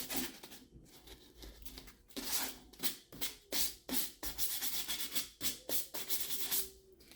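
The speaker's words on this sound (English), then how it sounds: "You can absolutely take a piece of sandpaper and just take off those splinters with it." Sandpaper rubbed by hand over wood to take off splinters, a rhythmic series of rasping strokes roughly twice a second, close and fairly quiet, with no talking.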